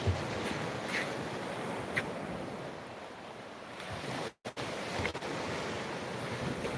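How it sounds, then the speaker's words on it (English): Gentle sea waves lap against the rock armour protecting a seawall on a calm sunny evening, a steady soft wash of surf with wind buffeting the microphone and a brief dropout midway. "the waves are just lapping at the rock armour, which protects the seawall."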